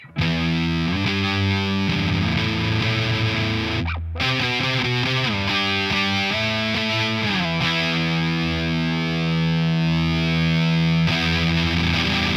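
Electric guitar through a noisy fuzz pedal plays dense, heavily distorted chords and sustained notes for the whole stretch, loud and close, broken by one brief silent gap near the start, with no talking.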